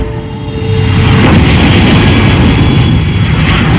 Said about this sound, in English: An explosion rocks the city today.